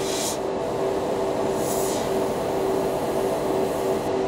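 A Badger Xtreme Patriot airbrush spraying enamel paint at close range for model building: a continuous airy hiss with a steady hum underneath, swelling in a few soft bursts.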